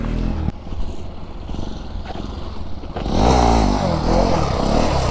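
A motorcycle engine idling and rumbling during wheelie practice, then revving up hard and climbing in pitch as the throttle opens, loud and close.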